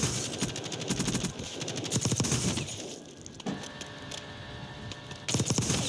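Rapid automatic rifle fire in Black Ops 6 crackles in loud bursts, with sharp repeated shots, a short lull midway and another burst at the end, all without any talking.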